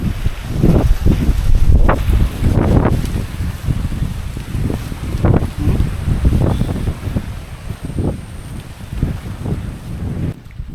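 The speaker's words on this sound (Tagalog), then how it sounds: "lakas ng hangin" Strong wind gusts rumble and buffet the microphone in repeated bursts at a rice field, with rustling in the background and no talking.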